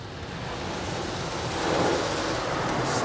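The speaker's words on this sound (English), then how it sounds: "Just rinse all that thick gel of triple foam off." A Laser Wash G5 touchless car wash in New Kensington, PA blasts rinse water over a car coated in thick triple foam, a steady broad hissing roar that swells slightly midway, close and loud with no talk.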